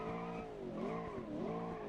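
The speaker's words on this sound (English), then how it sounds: "Clutch down, and we're gonna dump the clutch in the 5 to 6k revs." A V8 muscle car launching hard as the clutch is dumped at high revs: loud, close tire squeal with wavering pitch over a roaring engine, sustained without talk.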